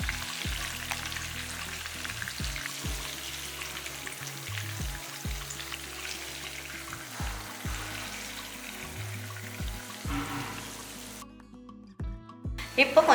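Eggs frying in masala over a slow flame, a continuous low sizzle with occasional stirring scrapes and clinks of a utensil against the pan, close by and steady, ending with a few louder knocks.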